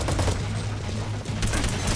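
Rapid automatic gunfire from the Metal Gear Online multiplayer game fills the moment, a dense, loud fusillade of shots continuing throughout.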